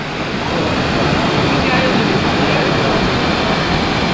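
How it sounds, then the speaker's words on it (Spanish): A waterfall in Córdoba, Argentina roars as a steady, broadband rush of falling water, loud and unbroken throughout. "La cascada es hermosa, ¿eh?"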